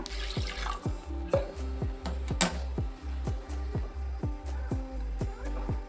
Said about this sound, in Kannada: ಸ್ವಲ್ಪ ತೊಗರಿಬೇಳೆ ನೀಟಾಗಿ ವಾಶ್ ಮಾಡ್ಕೊಂಬರ್ತೀನಿ